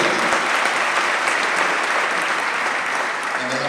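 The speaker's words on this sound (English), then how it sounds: "You need to clap. Clap for them," An audience claps steadily for visiting guests from Ghana, a dense, continuous round of applause filling the room for several seconds.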